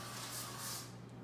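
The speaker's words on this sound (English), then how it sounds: "I'm going to spray the sides" Olive oil cooking spray hisses briefly onto the sides of a cake pan, one short close aerosol burst fading out.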